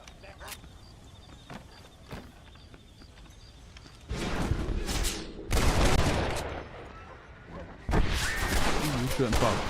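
Gunfire rings out in the Wild West video game Red Dead Redemption: scattered single shots come first, then loud bursts of rapid fire in several clusters over a noisy game backdrop.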